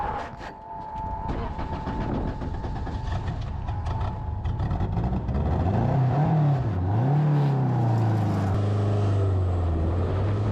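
An old car fitted with Microsquirt fuel injection revs hard during an autocross run, its engine note climbing and wavering up through the gears, loud and close.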